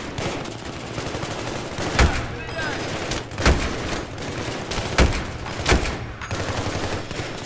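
Sustained gunfire in Battlefield 3, a busy layer of distant shooting with several sharper, louder shots standing out at intervals, plus brief voice-like sounds in the mix.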